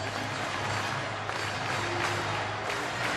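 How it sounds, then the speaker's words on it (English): A large baseball stadium crowd in the bottom of the sixth inning roars and applauds steadily, a dense, continuous wash of cheering and clapping heard from amid the stands. "this big crowd getting a little energized here in the bottom of the 6th inning"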